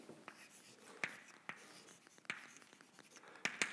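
Chalk or a marker taps and scrapes across a board during a physics lecture on single-cell movement, with a few sharp strokes and short scratchy lines in a quiet room.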